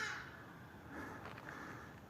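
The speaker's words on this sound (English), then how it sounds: "The noise of that bird is from an ibis." An ibis calls from a peaceful river bank in a city park, giving harsh, crow-like croaks at moderate distance over steady outdoor ambience, with no talking.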